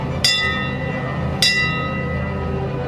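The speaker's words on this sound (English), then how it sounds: "I will ring the ship's bell 3 times." Ship's bell struck at a pirate and mermaid show at a theme park lagoon in Orlando, two bright metallic clangs about a second apart, each ringing on over a steady background rumble.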